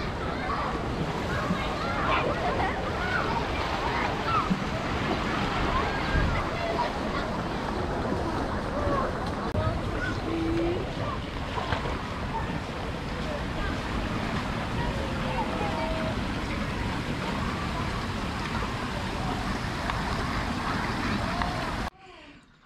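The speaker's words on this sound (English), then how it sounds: "Little lazy river." Steady broadband splashing and sloshing of water in a lazy river at Hanmer Springs hot pools, continuous and close for over twenty seconds before cutting off abruptly.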